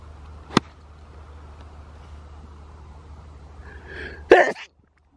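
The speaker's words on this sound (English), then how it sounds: "I sneeze because I'm allergic to good shots." A single sharp sneeze bursts out near the end, loud and close, on an outdoor golf course amid quiet ambient hum, with an earlier brief click-like knock.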